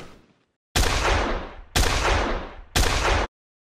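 Three loud, sharp medium-distance gunshot sound effects in steady succession, each a bright blast with a short echo tail that cuts off abruptly.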